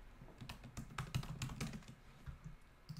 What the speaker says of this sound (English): we can type it in